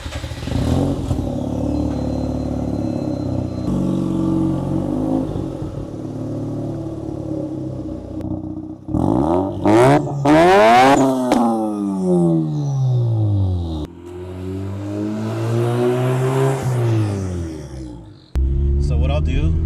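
A turbocharged Mazda RX-8 on its original 95K-mile rotary engine with a GReddy turbo kit revs and accelerates hard, its rising and falling engine pitch sweeping through several gear pulls, loud and close after a steadier idling rumble.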